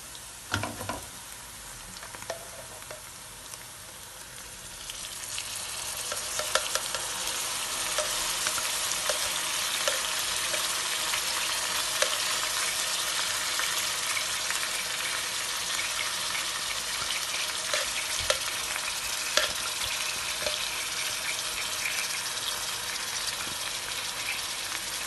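Ginger garlic paste added to golden brown fried onions for biryani: a quieter sizzle swells into loud, steady frying crackle, close up, with occasional stirring clinks, no talking.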